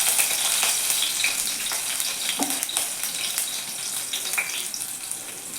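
Cut green chilies and crushed garlic dropped into hot oil, frying for a Kannada amaranth-greens palya: a loud, steady, close sizzle with crackling pops and a few scraping stirs, no voices.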